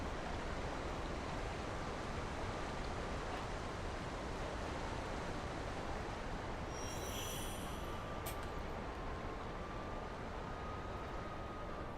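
A waterfall in the video game Sekiro roars with a dense, steady rush of water that fills the scene. It stays loud and unbroken throughout, with no one speaking.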